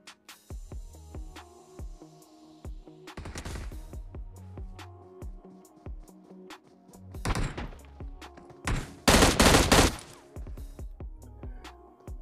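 Gunfire and impacts in a solo first-person battle royale shooter, with scattered sharp thuds and a few louder bursts of shots, the loudest cluster near the end.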